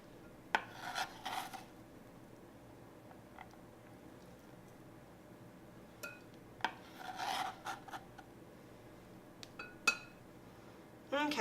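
A knife chops a small onion super thin for salsa, giving a few scattered bursts of rasping cuts close by against a quiet background, with a faint voice in places.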